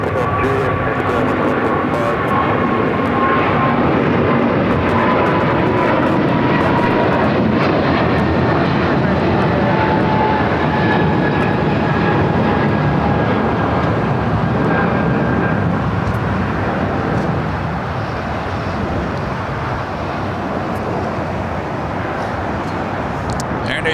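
A Boeing 777-300ER jet at LAX sends a steady, loud roar of engine noise across the whole stretch, easing slightly near the end, with radio talk faintly beneath.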